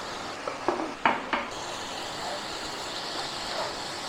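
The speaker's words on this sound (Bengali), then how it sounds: "এবার নারকেলটা একটু ভেজে নেবো।" Grated coconut with date palm jaggery being stirred and fried in a pan: a few scraping knocks of the utensil early on, then a soft, faint sizzle.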